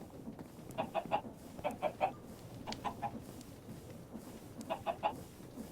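Chickens in the factory game Liminal Industries cluck in quick bursts of three or four notes, several clusters spread across the stretch over a quiet background hum.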